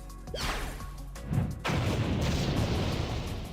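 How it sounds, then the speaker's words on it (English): A grenade goes off in the Blue Archive video game with a loud crash and boom. A whooshing sweep leads in, then a sharp impact and a sustained rumbling blast fill the rest of the moment. "Grenade?"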